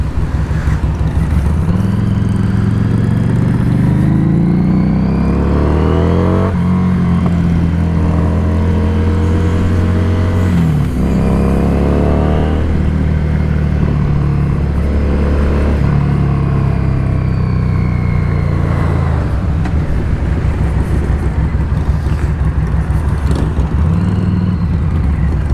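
A 2017 Harley-Davidson Street 500 motorcycle rides at steady speed, its engine droning loud and close throughout with gear changes and shifts in revs, no talk over it.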